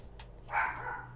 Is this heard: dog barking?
yes